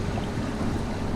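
A sailboat under way between Somerset and St George with one engine running gives a continuous rush of wind, water and low engine rumble, loud and steady throughout the short stretch.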